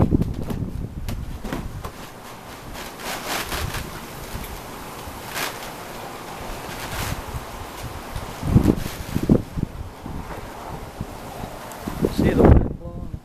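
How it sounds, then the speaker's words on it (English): Strong wind gusts through trees, plants and flowers near a pool, buffeting the microphone in rushing surges that swell and fade, with a few louder blasts toward the end. "Just blowing it wild. Blowing the flowers everywhere."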